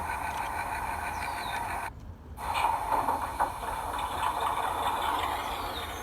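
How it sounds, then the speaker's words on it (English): A G scale model train engine hums and whirs steadily up close, drops out for a moment, then starts back up with a steady mechanical running sound and faint ratcheting clicks. "So now the engine's starting back up."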